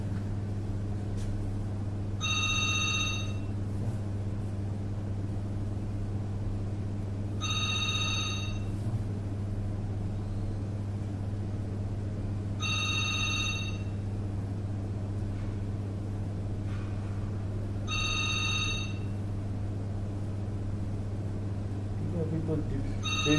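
A telephone rings in four evenly spaced bursts of trilling bell tone about five seconds apart, heard in a clinic room over a steady electrical hum with occasional speech in the background.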